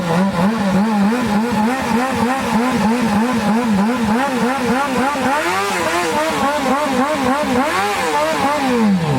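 At a car meet, a car doing a burnout revs its engine hard in rapid rising and falling surges, loud and close throughout, with the pitch climbing during the second half.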